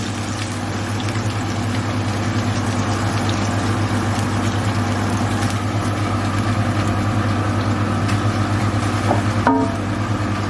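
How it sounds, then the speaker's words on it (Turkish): A kitchen extractor hood runs with a steady, loud mechanical hum and whoosh, unchanging throughout, with a brief clatter near the end. "Bu arada aspiratör çalışıyor."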